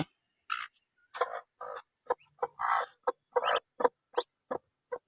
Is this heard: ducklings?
yes